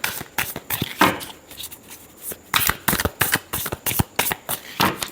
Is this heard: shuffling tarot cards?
yes